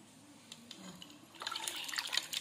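Water runs and splashes faintly as chicken is rinsed, starting quietly and then growing into a steady rinsing rush.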